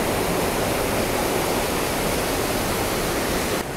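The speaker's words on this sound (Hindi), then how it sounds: "पानी की गति भी काफ़ी तेज़ है।" Fast-flowing water of a mountain stream near Dharamshala in Himachal Pradesh rushes in a loud, steady, broadband roar, close and continuous with no voices, then drops off abruptly at the very end.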